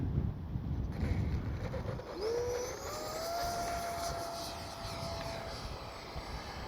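A 64mm electric ducted-fan RC F-86 Sabre jet whines steadily on a runway on a windy day, its pitch sliding upward as the fan spools, with gusty wind rumble throughout.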